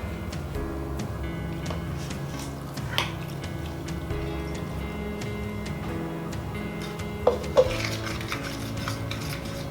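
Milk is stirred into flour and other dry ingredients in a bowl to make French toast batter. Soft, continuous utensil scraping and sloshing runs throughout, broken by a few sharp clinks against the bowl, with no speech.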